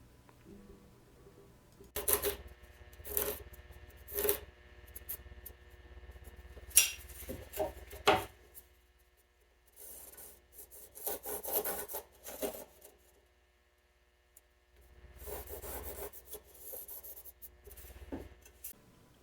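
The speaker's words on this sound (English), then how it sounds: "I started off with my worst chisel." A chisel cutting a mortise into a plywood workbench leg for a leg vise, with repeated scraping, rasping strokes in short bursts between quiet gaps, close and fairly soft.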